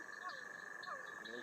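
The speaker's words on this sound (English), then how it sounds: "Frogs" Frogs croak in a repeated pattern of short rising calls over a steady high insect-like drone, set in the wild at a moderate distance with no talking.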